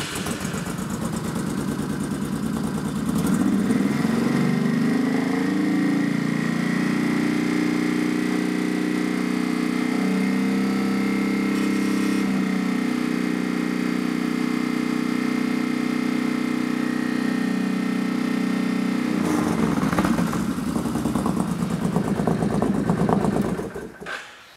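A Honda VTX 1800 motorcycle engine starts, then idles and revs steadily at a raised speed for about fifteen seconds with a deep, even, continuous drone before settling back, heard close and alone without talk.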